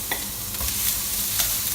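Three cloves of chopped garlic fry in rendered chicken fat, giving a steady close sizzle with a few soft stirring scrapes and no talk.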